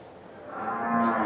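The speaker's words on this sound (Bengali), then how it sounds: "এই পাশে গরু আছে।" A cow moos at a cattle farm raising animals for Qurbani, one drawn-out, rising low call that swells in loudness and is heard fairly close without talk.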